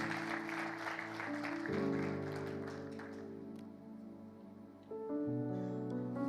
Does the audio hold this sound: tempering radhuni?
no